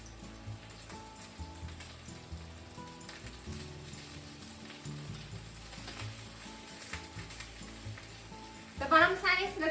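Kimchi cheese rice balls fry in a pan until crispy on the bottom, giving a continuous moderate sizzle and crackle that swells into a louder, brighter burst of spitting near the end.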